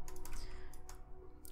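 Rapid keystrokes on a computer keyboard, entering a code during a Roblox Skywars game, with irregular clicks close up over a low steady hum.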